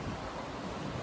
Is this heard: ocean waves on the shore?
yes